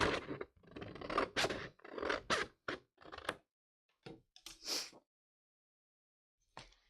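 Scissors snip through a Leuchtturm notebook along a pencil line, a series of close, dry rasping cuts in quick bursts, then a pause and a couple of brief final snips.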